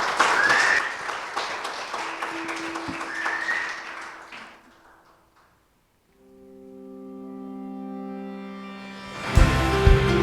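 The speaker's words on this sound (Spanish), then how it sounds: "Dale fuerte el aplauso al Señor." A church congregation gives a burst of applause that fades out over about four seconds, followed by a brief silence and then sustained tonal music swelling in.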